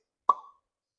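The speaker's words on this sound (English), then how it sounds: "Get a better cork pop." A cork pops from a bourbon bottle in one sharp, close plop with a short ringing tail, then quiet.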